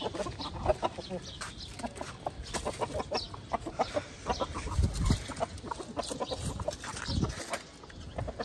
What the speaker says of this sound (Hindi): मुर्गे भी सारे ऊपर हो गए